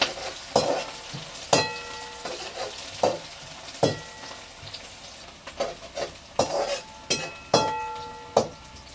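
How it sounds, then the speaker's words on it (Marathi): Onion sautés in hot oil on a wood-fired stove for Kolhapuri chicken, with a soft background sizzle broken by regular, sharp scraping and clinking strokes of a spatula against the pan, about one per second. "कांदा आपल्याला लालसर होईपर्यंत आपल्याला परतून घ्यायचं"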